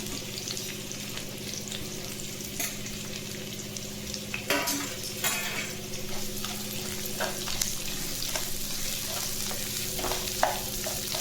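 About three medium onions fry in oil for chicken liver fry, a steady close sizzle broken by occasional spatula scrapes and clinks, with no speech.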